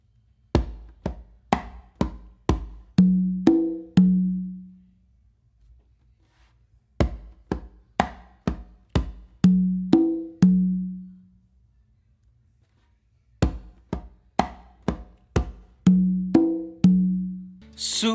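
Bolero rhythm played on two and three congas: quick runs of crisp slaps and taps ending in resonant open tones, the phrase repeated three times with short gaps, clear and solo with no voices.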